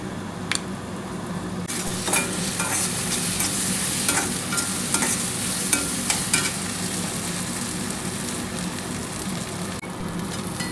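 Ginger garlic paste sautéing in groundnut oil, a constant close sizzle and frying hiss with repeated stirring scrapes and light clinks of a utensil against the pan, no voices.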